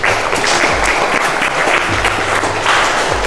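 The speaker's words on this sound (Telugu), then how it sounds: "పుట్టినరోజు శుభాకాంక్షలు చప్పట్లతో తెలియజేసుకుంటున్నాము" Steady, enthusiastic applause from a sizable crowd at a birthday food-donation event among orphans fills the whole stretch, dense clapping without pause and fairly loud.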